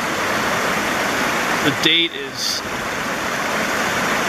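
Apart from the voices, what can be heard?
orange mine drainage water flowing out of a tunnel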